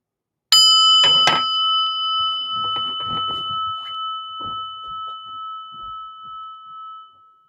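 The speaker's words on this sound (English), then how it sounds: "listen to this bell ring" A single clear meditation bell strikes loudly, and its bright tone rings on and slowly fades over several seconds amid faint background sounds.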